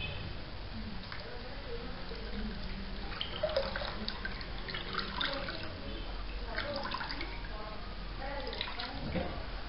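Running water rinses a hair piece during washing, a steady low splashing and trickling stream with occasional drips, continuing throughout at moderate level.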